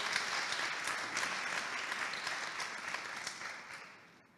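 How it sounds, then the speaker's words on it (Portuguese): A crowd applauds during a talk, dense sustained clapping heard from some distance that gradually fades out toward the end. "Pelo menos um aplauso eu ganhei."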